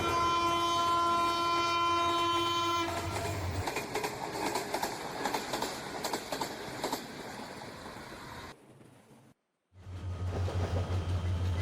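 The Tista Express intercity train on the Dhaka to Joydebpur line sounds a loud, sustained horn blast while rolling, followed by heavy rumbling wheel and carriage noise with clattering, a brief drop-out, then the roar returning.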